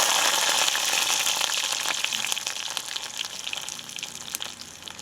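Mustard seeds, fenugreek, cumin and garlic frying in hot oil for a bitter gourd stir-fry, a bright crackling sizzle with scattered sharp pops that gradually eases and thins out.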